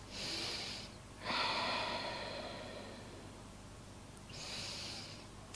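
Slow deep breaths during a yoga chest stretch in a quiet room: a long airy inhale then a soft exhale, with another breath starting near the end, close and gentle with no talking.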